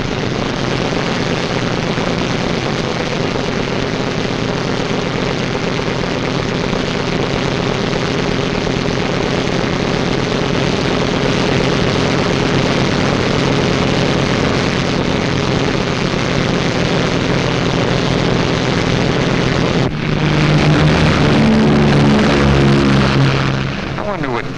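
B-17 Flying Fortress bombers take off and fly past, their heavy propeller engines giving a loud, continuous drone that swells near the end.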